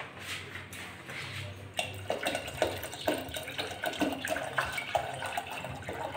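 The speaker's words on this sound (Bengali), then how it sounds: "এই যে এখন আমি জল দিয়ে দিচ্ছি।" Water poured into boiled red lentil dal with garlic and green chilli, a steady close splashing rush that runs the whole way through, no talking.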